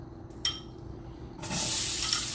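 Chopped onions hit a hot pan and burst into a loud, steady sizzle that continues to the end, after a brief clatter of the pan and utensils.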